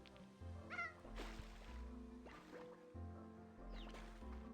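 A few short cat meows from the game Slime Rancher 2 rise and fall over a steady music bed, with bubbly, squishy effects in between.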